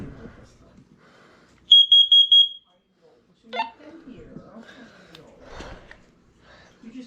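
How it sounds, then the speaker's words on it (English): A carbon monoxide detector in a downstairs hallway gives a quick run of four or five loud, shrill electronic beeps during a test, followed by scattered household noises and someone speaking. "this will be CO detector in the hallway downstairs"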